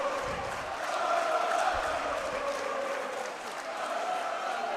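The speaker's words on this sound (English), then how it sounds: "Listen to that Xavier crowd." Xavier High School fans fill a gym during a high school basketball game against Regis, a steady, loud crowd roar with cheering swelling and easing over several seconds.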